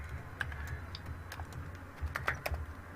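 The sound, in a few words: typing code on a computer keyboard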